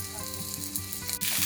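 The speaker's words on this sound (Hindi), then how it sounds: "तो बस अब इस प्याज को वो लाल करने वाली हैं।" Chopped onions sizzle in hot oil over a high flame for Maharashtrian-style masala masoor dal, a close, continuous frying hiss that swells louder near the end, with a faint tonal hum running underneath.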